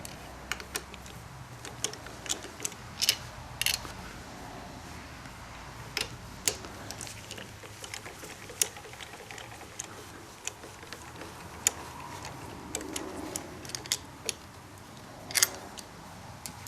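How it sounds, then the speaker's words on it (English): A hand speed tool spins out the handlebar bolts on a Kawasaki Concours 14 motorcycle, giving a quiet run of irregular metallic clicks and ratchet ticks close by. "I'm going to use a different tool called a speed tool. Get these out a little quicker."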